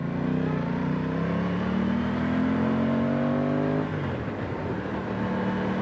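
A 2025 Aprilia Tuono 660 Factory motorcycle engine pulls hard under acceleration, its tone climbing steadily, then dropping sharply at a gear change before rising again, loud and close while riding.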